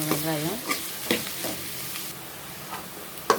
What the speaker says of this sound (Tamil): கடுகு போட்டுக்கலாம், வெந்தயம் போட்டுக்கலாம், வெங்காயம் போட்டுக்கலாம். நல்லா கிண்டி விடணும்.